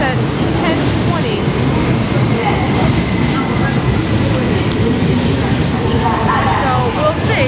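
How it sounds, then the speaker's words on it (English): A train pulls into a station in Spain with a steady loud rumble and rolling clatter, broadband and continuous, while a voice speaks over the noise. "So I don't know if this is my train."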